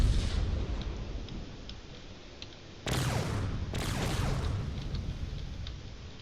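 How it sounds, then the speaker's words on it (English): Heavy barrage of railgun fire and missile launches in a space battle video game, a continuous rumbling wash of blasts with two sharp surges of louder firing partway through, dense and loud with no talking. "There's already a lot of railgun fire going out."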